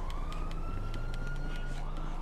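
A police siren wails in the Grand Theft Auto video game, a continuous sweeping tone over a low engine rumble, steady and fairly quiet, with faint taps on top.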